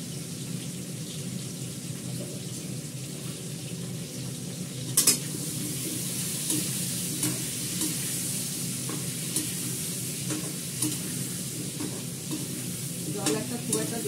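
Cumin seeds, asafoetida and bay leaf sizzle in hot oil in a pan while being stirred, a steady soft frying hiss with occasional scraping and clinks of a spoon against the pan.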